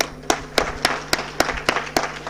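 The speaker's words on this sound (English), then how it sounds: "Please clap for yourself." A conference audience clapping at an international management institute conference: a steady run of sharp, evenly spaced claps, fairly close and clear, without talk.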